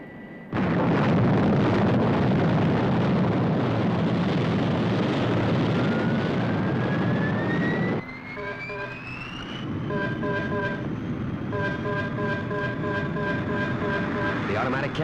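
Thunderbird 1, a rocket aircraft, takes off with a loud roaring blast and a rising whine, then settles into a quieter roar under a run of repeated electronic beeping tones.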